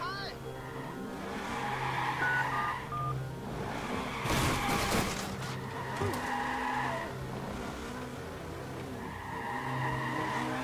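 Phone dialing in the Watch Dogs video game: a short run of electronic dial tones amid engine drone and tire squeals from a game car chase, with a voice talking over it.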